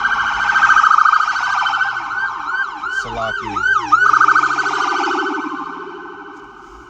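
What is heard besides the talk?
sirens of emergency vehicles in the street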